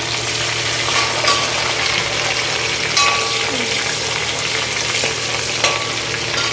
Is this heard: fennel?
yes